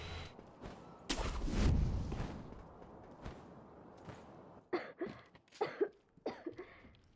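A video game character coughs a few times in Sekiro, one heavy burst early, then a quick run of short hacking coughs near the end, close and fairly loud.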